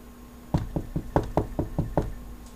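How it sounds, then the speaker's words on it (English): Knocking on a door, about eight quick raps in an uneven cluster, fairly close and distinct over a quiet room hum. "This time around it was a knock at the door."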